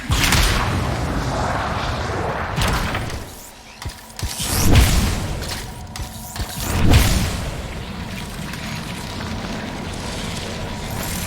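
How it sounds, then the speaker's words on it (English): Canisters exploding in the video game Anthem: dense roaring game noise broken by a couple of heavy, muffled booms and whooshes, ending in a steady mechanical drone, with no speech. "It'll be a contained explosion."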